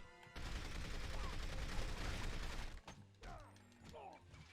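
Combat gunfire in the From Russia with Love video game: a dense, continuous burst of shots for a few seconds, then a scatter of quieter mechanical clicks and clatter.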